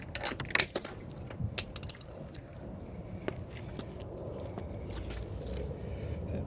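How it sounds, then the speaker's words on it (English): Torx screws driven back into an Acura door mirror during a mirror actuator replacement: a few sharp close clicks and ratcheting ticks early on, then quieter faint mechanical rattling. "Put the screws back in."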